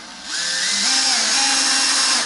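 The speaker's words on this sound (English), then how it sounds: "there's 3 more to be drilled" A power drill runs steadily and loudly at close range, boring screw holes during the setup of a Vintage Icon V6 guitar, its motor pitch shifting slightly under load.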